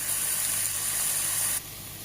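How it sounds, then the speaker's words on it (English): Chicken pieces sizzle and hiss steadily while frying with masala in a pan, a loud close crackling spray that suddenly softens near the end as the heat or stirring shifts. "I'm just going to keep stirring and frying the chicken with the masala"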